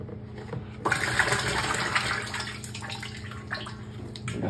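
Water is poured back into the top of a vessel: a steady, close splashing rush starts abruptly and carries on under a continuous low hum, with no talk.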